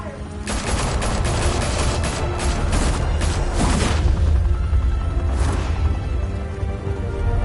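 Gunfire in a video game as a dense, rapid volley of shots in the first half, with a last burst later over a steady low rumble of background battle noise.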